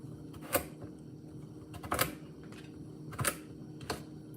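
Knife chopping a kabocha squash into bite-size pieces on a board, several sharp separate cuts spaced about a second apart, close and fairly quiet.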